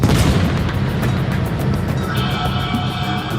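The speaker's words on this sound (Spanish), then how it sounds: "el plan aliado era debilitar las defensas alemanas con un bombardeo aéreo y después uno naval." Heavy naval artillery fire from the opening D-Day bombardment booms loudly at the start, then rolls into a dense, sustained rumble of distant guns.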